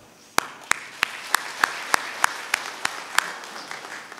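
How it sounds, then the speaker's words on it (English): Steady, evenly spaced claps ring out about three per second at a valedictory service as the audience welcomes the speaker, sharp and fairly close, with no talking over them. "Let us welcome our speaker with another round of applause."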